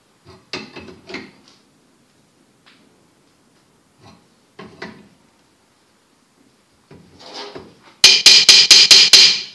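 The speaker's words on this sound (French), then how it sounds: "vous pouvez taper dessus pour que ça casse" Hammer striking the cast iron rear brake drum of a Ford Sierra, a few scattered knocks and scrapes, then a fast burst of six loud, ringing metallic blows close by.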